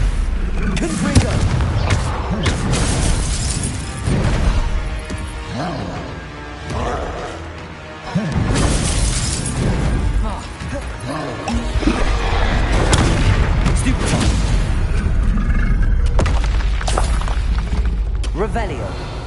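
Confringo blast spells explode in Hogwarts Legacy on PS5, a loud run of booming, crackling explosions and impacts over game music, with a person talking over much of it.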